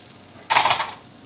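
Rinsed basmati rice drops into hot oil with cumin in an Instant Pot on saute, setting off a sudden close sizzle that swells for about half a second and then fades.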